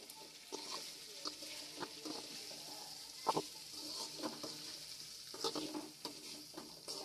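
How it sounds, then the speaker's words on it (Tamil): Fried potatoes seasoned with sambar powder being stirred in a pan, with a steady soft sizzle of frying and repeated scraping stir strokes, fairly quiet and without talking. "இப்ப இதை போட்டுட்டு நல்லா கிளறி விடுறோம்."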